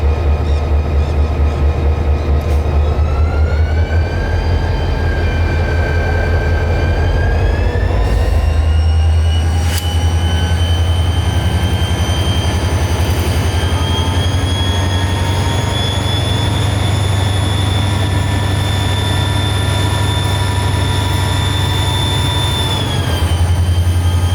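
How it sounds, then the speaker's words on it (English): GP40-2 diesel locomotive idling close by, a loud steady low throb with rising and falling whine tones and a brief sharp clank partway through, no talking. "the locomotive happened to stop right next to us, so it was a great photo opportunity and sound file opportunity for those wanting the idle sounds"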